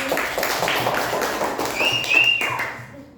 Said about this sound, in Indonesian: Tepuk tangan buat Mbak Sapi